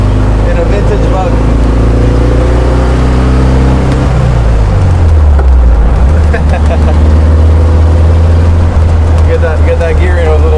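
A Volksrod, a modified vintage Volkswagen Beetle, drives along, its engine droning loud and close with a drop in pitch partway through, like a gear change, before it settles into a steady hum.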